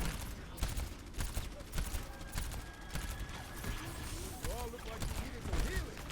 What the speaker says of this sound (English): it's only Orisa shooting at me